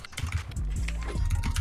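Loud computer keyboard typing from a Fortnite player's gaming setup, with a dense run of quick clicky keystrokes heard up close and alone.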